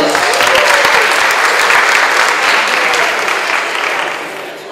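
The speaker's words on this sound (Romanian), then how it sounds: "Aplauze!" Steady applause from an audience at a national robotics competition stage, a dense wash of clapping held loud for several seconds before it begins to taper off at the end.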